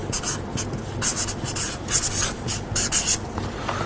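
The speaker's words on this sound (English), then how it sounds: "Okay, so let's write that down." A pen writes a triangle during a lesson with steady scratchy strokes, close and continuous, in short bursts of line-drawing.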